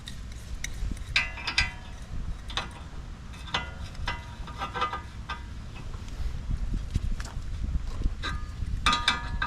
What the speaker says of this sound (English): now we can tighten up our backing nut with our backup wrench